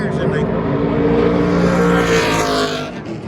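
NASCAR trucks roll down pit road at the Las Vegas race track, a loud, steady engine roar that holds throughout and fades slightly at the end, with voices talking underneath.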